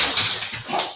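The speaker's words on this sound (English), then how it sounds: "Oh, I've got to let the dog out now." A dog whimpers to be let out indoors, giving a brief, close, high-pitched whine lasting about a second.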